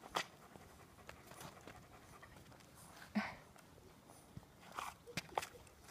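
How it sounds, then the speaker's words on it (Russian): A dog pants and shuffles close by, making faint breathy puffs and scattered small clicks and taps over a quiet background. "такая серьезная собака"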